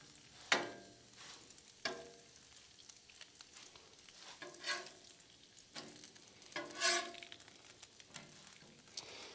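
Hash browns and breakfast food fry in grease at a race track, a quiet steady sizzle broken by several louder bursts of crackling and scraping as they are stirred and flipped.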